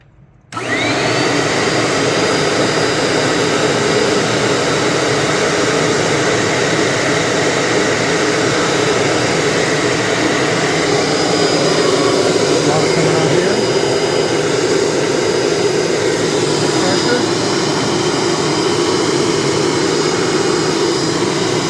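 A Bissell Little Green Pro carpet cleaner running with its heater gives a loud, steady motor whine and airflow roar that starts abruptly and holds unbroken for about twenty seconds, with no talk.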